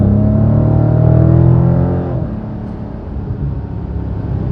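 A Dodge Challenger 1320 drag car's V8 revs loudly with a deep harmonic roar that builds, then drops off to a lower, rougher rumble.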